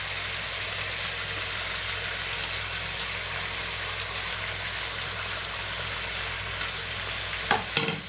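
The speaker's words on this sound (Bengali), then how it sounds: "আলুগুলো দিয়ে মোটামুটি দু থেকে তিন মিনিট একটু কষিয়ে নিয়ে জল দিয়ে দেবো" Potatoes being stir-fried into a simmering meat curry give a steady, dense sizzle with continuous stirring. A few sharper utensil knocks come near the end.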